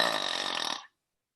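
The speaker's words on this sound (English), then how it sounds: "That burp was just coincidentally there." A single loud, rattling burp lasting under a second, close to the mic, then silence.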